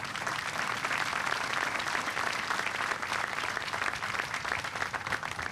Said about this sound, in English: how about a round of applause for the soldiers in the band?